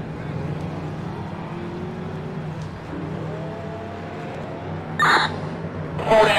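Race car engines from the NASCAR Racing 2003 video game at Talladega drone in a steady low hum with faint rising pitches as the cars get underway, broken by two short, sharp bursts near the end.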